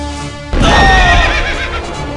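A horse neighs in the strategy game Conquest of the New World: a loud, sudden whinny with a wavering, descending tone, joined by a few hoof clops, over a low steady game hum.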